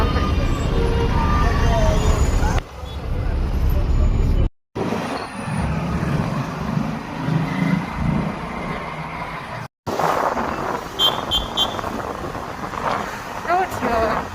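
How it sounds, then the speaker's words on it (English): Busy Bangalore street traffic: engines and rumble from passing vehicles, a horn-like tone and road noise, with people talking over it and brief cuts in between. "Classic Bangalore traffic."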